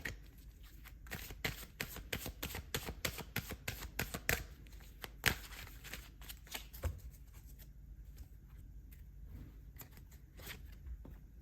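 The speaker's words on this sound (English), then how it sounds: "So let's pull some more cards." Tarot cards are pulled and shuffled from a deck, a quiet close run of rapid papery riffles and flicks, busy at first and then thinning to sparse soft slides, with no talking.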